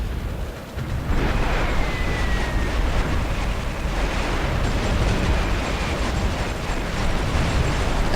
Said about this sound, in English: Let's get the Air Force out again. And just bomb these tanks.